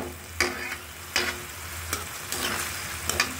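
Onion, garlic and ginger paste sautéing in a pan for spicy liver bhuna, a soft steady sizzle broken by four or five scraping stirs of a spoon at irregular intervals, close and fairly quiet.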